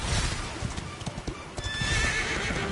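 Steady clip-clop of horse hooves at a trotting rhythm, with a whinny near the end, over a busy synthetic background in the video game Dragon Quest XI.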